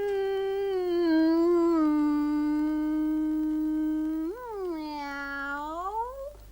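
A long sliding tone imitates a cat's meow, a sustained wavering pitch that dips, then rises again, played alone and fairly loud.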